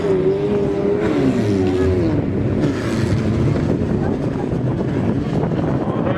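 Škoda Favorit race car on its final run, loud engine roar with a rising then falling tone under heavy wind buffeting, continuous and close throughout.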